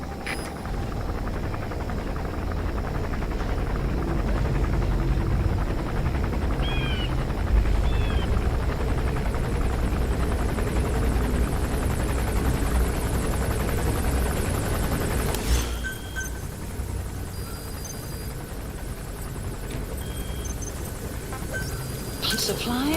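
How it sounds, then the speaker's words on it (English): An enemy gunship helicopter arrives in a Metal Gear video game, its rotor drone continuous and fairly loud before dropping off abruptly partway through, with game voices heard intermittently. "The chopper will be arriving any minute."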